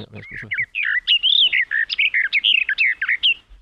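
Songbird singing close and clear, a rapid run of bright chirps and warbled whistles in short bursts, steady and rhythmic, with almost no background noise.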